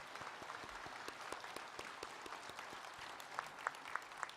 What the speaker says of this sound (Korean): 격려의 박수 한번 옆분들을 바라보면서 격려해 주시죠